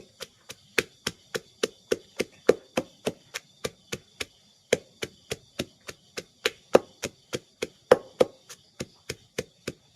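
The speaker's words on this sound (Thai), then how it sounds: "ขออนุญาตโขกก่อนนะครับ" Herbs and chilies are pounded in a mortar in a backyard kitchen, with steady, evenly spaced dull thuds repeating about three times a second, close and crisp with no voices, broken by one brief pause.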